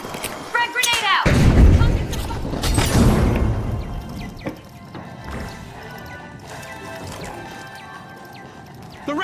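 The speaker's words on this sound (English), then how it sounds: "Frag grenade out." A frag grenade blows up in an online video game, a loud crash followed by a long rumbling decay with debris-like rattles, and game effects carry on underneath.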